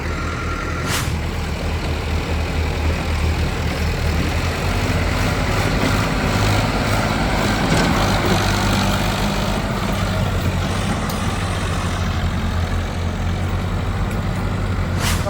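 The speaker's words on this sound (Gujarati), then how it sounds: "ટ્રેક્ટર ચડાવી દીધું ભાઈએ હવે લાઈન જાય છે" A heavy tractor engine drones steadily and loudly throughout, laboring under load as it climbs a slope, with a brief hiss near the start.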